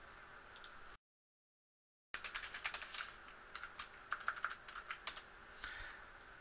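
Quick, light keystrokes clatter on a computer keyboard after a brief silent gap, a close but faint run of uneven taps with no talking.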